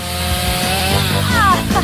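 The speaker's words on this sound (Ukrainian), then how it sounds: "Пила із цим чудово впоралась." A motorized saw buzzes steadily while cutting the spines off a cactus in a home cooking challenge, its droning hum running throughout under a speaking voice.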